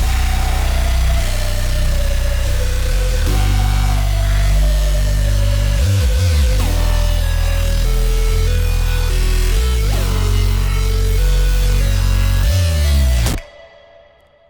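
Several distorted synth leads stack together with a heavy, booming low end, forming a thick, loud electronic loop with pulsing bass hits that plays alone and cuts off abruptly.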